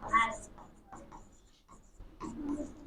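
Chalk or pen writing on a board during a Class 10 maths lesson, scratchy strokes in short bursts with pauses between them, fairly close, with a faint voice in the background.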